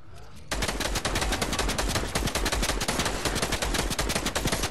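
Rapid automatic gunfire in the Fortnite video game, a continuous burst of sharp, loud, closely spaced shots that starts abruptly after a brief quiet moment and keeps going without a break.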